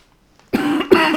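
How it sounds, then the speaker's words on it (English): Two sharp coughs in quick succession after a brief quiet moment, close and fairly loud. "sorry, I'm coughing"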